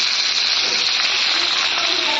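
Pointed gourd and other vegetables fry in a pan, producing a loud, continuous hiss of sizzling oil heard close up with no voices.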